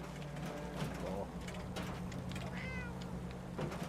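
Cat meows from Fallout 4, a few short rising calls among steady game ambience and background music, moderately loud.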